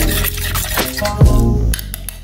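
A homemade foaming soap mixture is stirred for a couple of seconds, giving a close, wet swishing with a few faint clinks.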